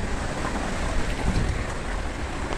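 Heavy rain pours steadily with strong gusting wind during a storm, a dense continuous roar throughout with low rumbling swells, close and loud, no voices.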